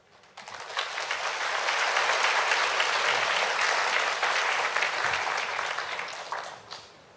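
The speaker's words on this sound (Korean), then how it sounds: "나오실 때 그 환영의 박수 부탁드리겠습니다" A church congregation breaks into warm welcoming applause for a pastor coming forward, a dense, steady wash of many hands clapping that swells quickly, holds for several seconds and tapers off at the end.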